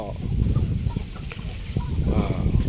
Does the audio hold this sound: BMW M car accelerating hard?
no